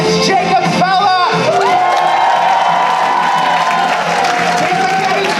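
A crowd whoops, shouts and cheers loudly as players are called up to the front at a live stage show, with a voice talking over the noise.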